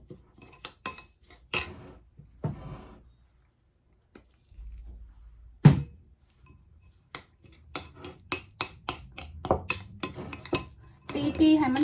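A spoon clinks and scrapes against a bowl while potato powder batter for sesame balls is mixed, giving irregular close knocks and taps with pauses, and a voice speaks briefly in between.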